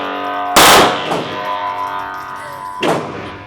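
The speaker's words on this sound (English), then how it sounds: "This will be my first time ever shooting an FRT" A Taurus TX22 .22 rifle with a forced reset trigger fires, a loud sharp blast followed by ringing echo, then a second shot a couple of seconds later.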